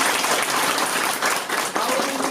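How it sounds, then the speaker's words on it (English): Schoolgirls at a girls' high school clapping for themselves, a dense, steady burst of applause filling the whole stretch without a break. "Clap for yourself."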